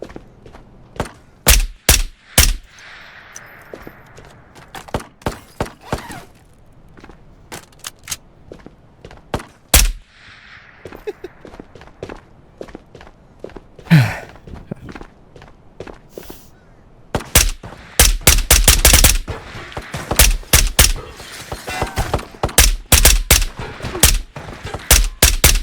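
Gunfire from a fight against scavs in the video game Ghosts of Tabor: sparse single shots and short bursts early on, growing into dense rapid volleys of loud shooting near the end, with some footsteps between.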